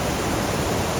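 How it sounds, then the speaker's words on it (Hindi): River water in Manali rushes in a loud, continuous, close-up hiss with no pauses or voices. "कितनी ज़बरदस्त पानी की आवाज़ आ रही है और बहुत ही ज़बरदस्त तरीके से ये नदी बह रही है"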